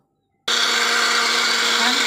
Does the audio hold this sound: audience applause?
no